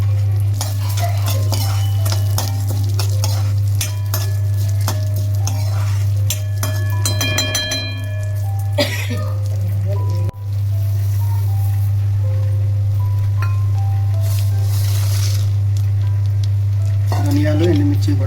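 Chana dal and urad dal crackle steadily in hot oil for a curry powder, with stirring clinks and scrapes over a constant low electrical hum.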